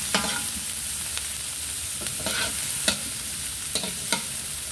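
Garlic stirred in a hot pan, with a steady sizzle and a handful of scraping spoon strokes at irregular intervals, close and clear with no talking.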